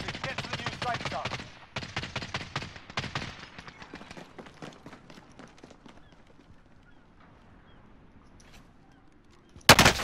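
Gunfire in Warzone, sharp rapid bursts of shots up close at first, then scattered fainter cracks trailing off, with a sudden loud burst at the very end.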